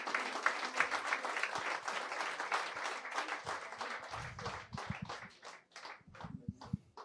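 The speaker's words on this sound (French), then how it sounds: "avec Inès Casalas et puis Karine Mazel, que j'invite à me rejoindre sous vos applaudissements." An audience claps steadily to welcome guests at a talk on storytelling, ecology and therapy, with dense applause that thins into scattered, fading claps toward the end.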